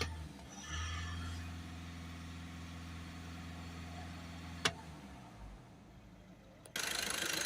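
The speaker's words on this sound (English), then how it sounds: "So we'll give it a couple of revs before we blast in the rest of the fluid." A VW Touran 1.6 TDI diesel engine idles with a steady low hum, rising briefly as it is revved a little. A sharp click comes partway through, and a louder hiss bursts in at the end.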